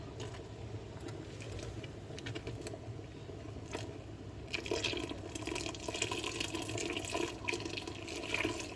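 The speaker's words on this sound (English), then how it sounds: "I'm now going to add about 1 liter of that stock." About a liter of vegetable stock is poured into a soup pot for a vegan vegetable soup, giving a steady, close liquid splash that swells louder partway through, with no talking.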